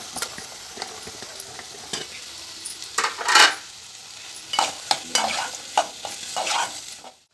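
Ridge gourd sizzles in a frying pan seasoned with turmeric and ginger, with bursts of scraping as a spatula stirs it in irregular strokes over a soft steady fry.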